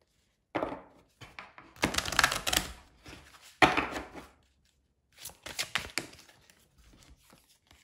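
A deck of oracle cards being shuffled by hand, in several bursts of crisp riffling and papery slaps with short pauses between them, close up and with no talking.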